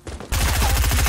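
Fortnite gunfire from a video game bursts in loud and close, a rapid automatic stream of shots kicking in after a brief quieter lead-in and continuing without pause.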